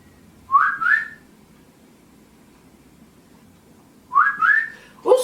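A person whistling two short rising phrases several seconds apart, each a quick bright upward-sliding pair of notes, clear and close against a quiet hiss, with another note starting at the end.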